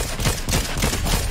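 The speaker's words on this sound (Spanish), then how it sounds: "Oigo tiros por la derecha y por la izquierda" Rapid bursts of Fortnite video game gunfire crackle continuously, loud and close, with overlapping shots in a dense, chaotic volley.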